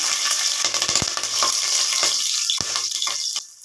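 Mustard seeds and green chili fry in hot oil, a loud close sizzle with scattered popping crackles that quiets slightly toward the end, with no talking.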